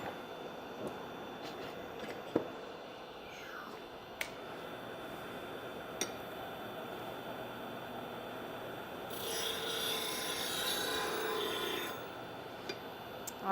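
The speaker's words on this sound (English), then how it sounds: "I'm going to touch up my gouge here." A woodturning gouge is touched up with faint rasping, scraping strokes on a sharpening tool, with a few sharp clicks and a brief louder grinding stretch, quiet and close in a workshop.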